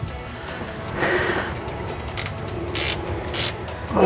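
A ratchet tightens the nuts on car coilover suspension in a workshop, with several short bursts of clicking spread over a few seconds against a steady background rumble.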